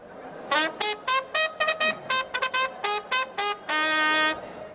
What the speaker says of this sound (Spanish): si uno modifica el sonido original del claxon del coche y en lugar del típico pipí ponemos esto.